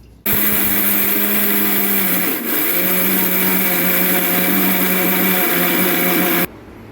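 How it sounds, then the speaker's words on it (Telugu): A kitchen mixer grinder blends soaked wheat grains into a smooth paste, a loud steady motor whir that starts abruptly, dips briefly midway, then runs on and cuts off near the end, with no talk. "గోధుమలు నానాక మిక్సీ పట్టుకోవాలి"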